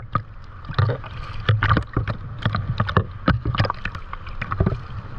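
Rough waves slosh and splash close by at a shore dive entry near Dumaguete, in irregular bursts of churning water.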